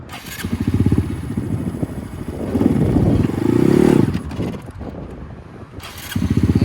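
Honda Grom motorcycle engine revving in bursts, a close, loud throttle blip near the start, louder surges in the middle and another at the end, with idle chugging between and no talk.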